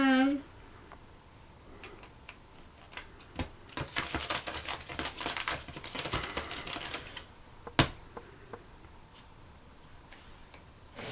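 Someone types on a computer keyboard at a home computer desk, with clicky keystrokes in irregular bursts and a few louder taps, close by and moderately quiet, while faint voices sound in the background.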